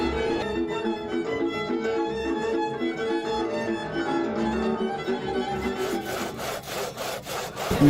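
A two-person hand saw rasps through a log at a lumberjack contest, a dense, steady back-and-forth sawing close by that continues throughout with no talk.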